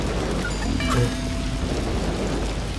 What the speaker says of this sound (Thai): ได้ยินเสียงฝนนิดหน่อย